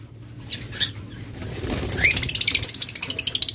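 Lovebirds at a bird farm, with a burst of wing flapping followed by a run of rapid, evenly spaced chirps that grow louder and closer toward the end over a low steady hum.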